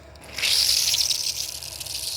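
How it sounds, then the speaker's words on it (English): Well water gushing out under pressure on a sunny farm, a steady broad hiss of spraying water that swells quickly and holds loud and close for the whole stretch. "we are able to draw from the well with enough pressure to water this entire farm"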